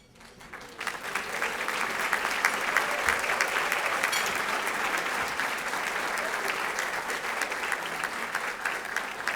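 Sustained applause from a large dinner crowd at a multicultural alliance annual awards dinner honoring current board members, rising quickly and holding as a dense, even wash of clapping for around nine seconds.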